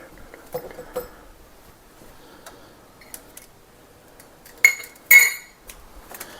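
A utensil cuts up a partly frozen ingredient in a pan, sparse light clinks and taps, then two louder metallic scrapes close together near the end.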